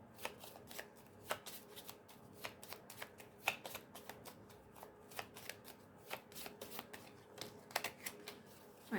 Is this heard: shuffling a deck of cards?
yes